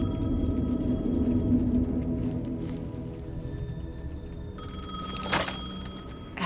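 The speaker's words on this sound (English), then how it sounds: "The payphone was ringing." A payphone rings in the Alan Wake 2 video game, a sustained electronic ringing tone over a low, rumbling ambient bed, with a sharper burst near the end.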